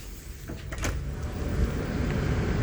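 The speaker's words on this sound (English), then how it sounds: "So I'm going to walk out the door." A door on a cruise ship opens with a few soft clunks and a slide, then steady, fairly loud ambient rush from the outer deck fills in and holds; no one speaks.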